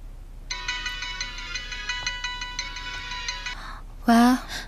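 A phone ringtone plays as a steady, bright melodic loop for about three seconds and goes unanswered, then a voice speaks briefly after it stops.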